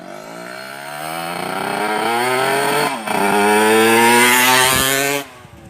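A Dash 125 motorcycle engine revs loudly nearby, pitch climbing steadily, dipping briefly, then roaring higher before cutting back to idle.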